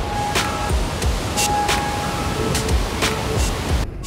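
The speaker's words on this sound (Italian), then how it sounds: "C'è una bella cascata." Waterfall at Faido, Switzerland, a dense, constant rushing roar of falling water, heard loud and steady with faint clicks on top.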